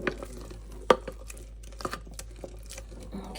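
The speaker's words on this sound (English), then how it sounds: "So stir it up really good, making sure to mix everything together." Thick sourdough starter batter is stirred in a jar with a spoon, giving soft scraping and a few sharp clinks against the glass at irregular intervals, quiet and close.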